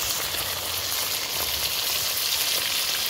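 Fish frying in a pan, a continuous close sizzle with fine crackling, moderately loud and steady with no voices.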